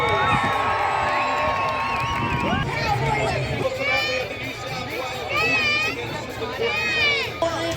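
Crowd cheering and whooping at a Bikes and Bulls show at Hawkesbury Showground, with loud amplified announcing running over a lively, noisy crowd.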